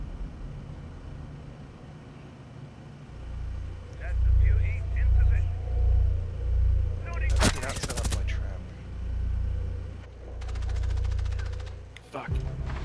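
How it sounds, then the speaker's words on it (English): Gunfire in Rainbow Six Siege comes through a window as two sharp, bright bursts of shots, one in the middle and one near the end, over a low rhythmic throbbing rumble, with a player talking. "There's also someone shooting through the window too."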